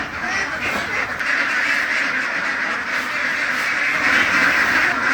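A flock of farm-raised ducks quacks continuously nearby, a dense overlapping chorus of calls that fills the whole stretch without pause.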